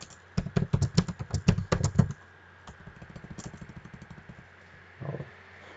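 Computer keyboard typing in a rapid burst of sharp key clicks, then a lighter run of steady taps and a final heavier keystroke, close and clear with no voices.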